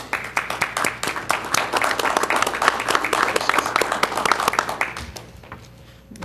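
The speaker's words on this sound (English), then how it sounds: "They're applauding now." Board meeting attendees applaud the newly elected board president, a small group's distinct individual claps ringing out fairly close for about five seconds before stopping abruptly.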